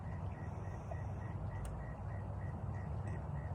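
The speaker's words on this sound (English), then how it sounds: "Can you hear the frog?" Outdoors at night, a frog sounds off in a steady rhythmic series of short croaks, evenly spaced and fairly faint above a low continuous background hum.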